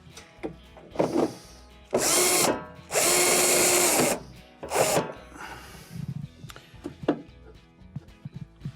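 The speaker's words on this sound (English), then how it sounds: "we'll install our two number 2 Phillips screws" A power driver sets two number 2 Phillips screws into a KitchenAid, Whirlpool or Roper washer's control console, with two loud buzzing bursts of about a second each between softer clicks and handling noise, close by.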